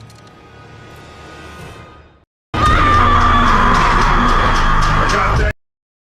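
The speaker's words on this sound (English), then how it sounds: "play the scream in the background" A loud, sustained scream sound effect bursts in after a quieter stretch and a brief gap, holding at full strength for about three seconds before cutting off, set in an anime zombie-girl story.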